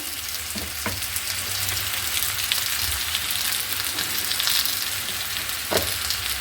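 Sliced tomatoes frying in hot oil in a pan, sizzling and crackling steadily and fairly loudly throughout, with a few sharper pops and no talking.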